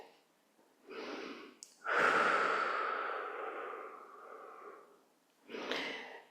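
Slow, audible breathing up close during a guided fascia-release movement session: a soft inhale, then a long, loud exhale trailing off, followed by another inhale, with no talking.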